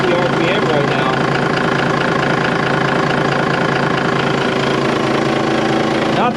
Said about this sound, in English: you can see this engine's only spinning over at 550 RPM right now